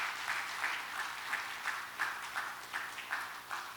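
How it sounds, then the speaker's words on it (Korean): Audience applause for pastor Go Eun-sik at an evening church lecture, a steady wash of clapping from a crowd with a few louder rhythmic bursts, lasting throughout without speech. "우리 고은식 목사님 다시 한번 뜨겁게 박수로 인사를"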